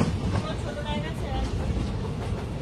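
The Humsafar Express pulls into platform 14 of a busy station with a loud, continuous rumble and rattle of rolling wagons, while voices murmur in the background.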